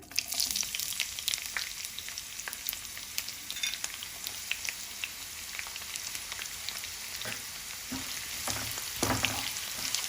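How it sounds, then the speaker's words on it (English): Onion frying in hot vegetable oil in a pan, with potato about to join, for a Spanish omelette: a steady, fairly loud sizzle with crackling pops throughout, no talking. "Now oil is hot. We'll put onion."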